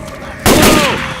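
Gunfire in the Left 4 Dead 2 video game on the Crunch Time campaign: a loud burst of shots begins abruptly partway through and rings on to the end, with game chatter faintly around it.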